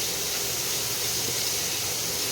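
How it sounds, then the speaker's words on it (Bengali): Chopped ginger, garlic and onion frying in oil in a pan, a steady close sizzling hiss that runs unbroken with no talking. "পেঁয়াজের সঙ্গে এগুলো একটু ভাজা ভাজা করে নিতে হবে।"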